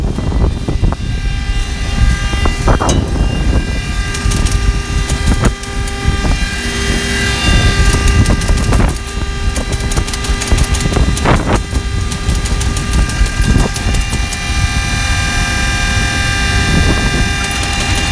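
A farm tractor engine runs steadily through soybean planting, a loud continuous drone with harmonic hum and occasional clanks and rattles, close by and with no talk over it.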